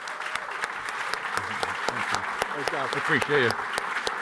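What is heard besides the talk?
audience applause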